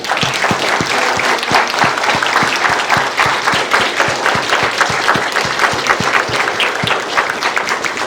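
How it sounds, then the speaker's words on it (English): An audience at a lifetime achievement award ceremony gives a sustained round of applause, with steady crackling clapping and sharp individual claps standing out throughout. "Let's get one more round of applause."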